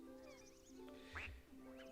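A duck quacks in the Viva Pinata video game, one clear quack rising over a steady bed of game music and ambient chirps.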